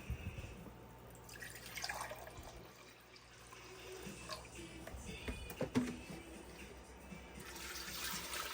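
White vinegar poured into a measuring cup while making the syrup for a sugar-free pickle relish: a steady trickling splash through the middle, with quieter liquid sounds before and after.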